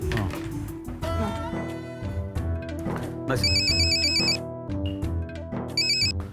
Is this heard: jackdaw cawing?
no